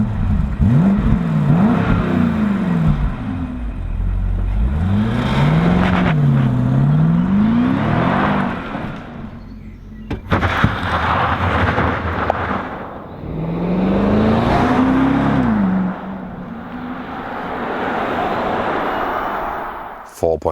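A BMW X5 M50i with a 4.4-liter V8 accelerates hard, its engine note rising through several gears with loud climbing revs and shift dips, close and prominent, while a voice speaks at times.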